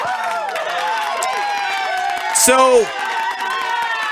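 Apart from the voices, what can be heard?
BlizzCon crowd applause for Diablo's 20th anniversary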